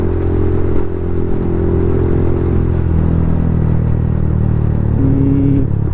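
A Yamaha MT 15 motorcycle fitted with an Akrapovic full exhaust system rumbles loudly and close up, its steady exhaust note shifting in pitch as the throttle varies, with no voices over it.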